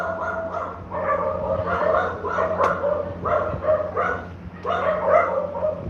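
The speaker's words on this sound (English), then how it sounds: "somebody's knocking at someone's door, so their dogs... And they're in an echo chamber, a big hallway over there, so they're going off" Several dogs barking in an echoing big hallway, a run of repeated, reverberant barks and yips that keep going off in bursts, moderately distant, with no talk over them.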